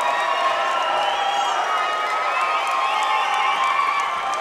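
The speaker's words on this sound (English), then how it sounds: "This crowd goes crazy as he goes to the line to complete the 3-point play." A basketball crowd at a high school game between Placer Hillmen and El Camino Eagles cheers loudly and continuously, a dense roar of shouting voices filling the gym without a break.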